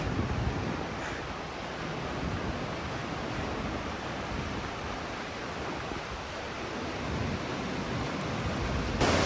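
A river rushes hard along a mountain trail on the way to Malana village, a dense, unbroken roar held close and loud for the whole stretch, with no voices.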